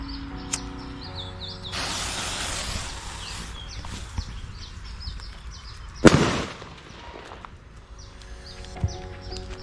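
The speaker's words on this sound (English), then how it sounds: "One of these here firecrackers." A firecracker set off in a garden to scare birds off scattered rice gives a sharp, loud bang about six seconds in, after an earlier burst of broadband noise, with birds chirping throughout.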